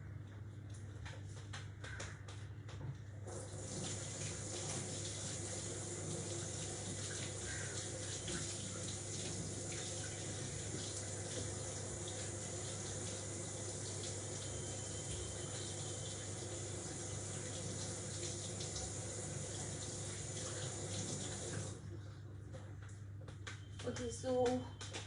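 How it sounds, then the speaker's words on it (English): Hands are washed under a running kitchen tap, the water streaming steadily for about twenty seconds at moderate level, with faint clatter before and after. "Now I'll just quickly wash my hands"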